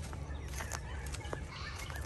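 Chickens clucking softly at a distance over a steady low background hum, with a few short scattered calls.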